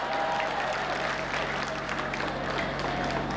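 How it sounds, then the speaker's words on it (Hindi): A hall audience at a Hindi comic poetry gathering breaks into dense, steady applause, a loud continuous patter of many hands clapping that holds at full strength from start to finish without any voices. "ताली तो पूरा सदन इस बात पे बजाएगा"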